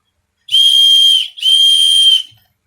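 A loud, shrill whistle from an outdoor survival kit blown twice in quick succession, two long piercing blasts with a brief break between them.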